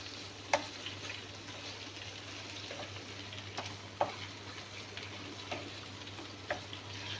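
Squash (kalabasa) fries in a pan while being stirred, a steady soft sizzle broken by several sharp utensil clicks against the pan, with no talk.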